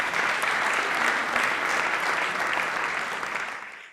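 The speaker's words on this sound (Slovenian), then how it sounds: "nami so tudi David in Buši, dajmo na aplavz oba, dajmo no." Comedy roast audience claps and applauds, a dense burst of close clapping that holds steady for a few seconds and then tapers off toward the end.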